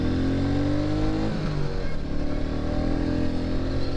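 A 2021 Royal Enfield Meteor 350 single-cylinder motorcycle pulls away under acceleration, its steady engine drone shifting pitch partway through as it gains speed, loud and close throughout with no talk.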